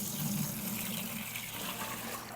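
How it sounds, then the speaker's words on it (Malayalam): Water gushes steadily into a container holding a slurry of chicken droppings and vegetable waste, a continuous close pouring rush with a slight rising tone as it fills, no talking. "ഇനി ഇത് നിറയെ വെള്ളം നമ്മൾ ഫില്ല് ചെയ്യും."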